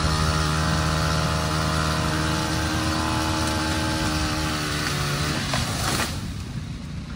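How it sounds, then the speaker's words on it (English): Chainsaw cutting tree limbs at a burned-down mansion under restoration, a loud steady engine drone running continuously before dropping off near the end. "So I decided to get the chainsaw out and start chopping."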